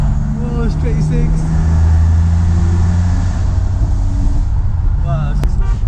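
A BMW E36 328i straight-six engine drones steadily at close range while driving, pitch rising and settling as it pulls, with a person exclaiming over it now and then.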